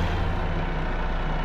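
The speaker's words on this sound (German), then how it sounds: "LKW ist da." A truck arriving in the farming game Landwirtschafts-Simulator 15, a steady loud engine rumble with broad noise held evenly throughout, no talk over it.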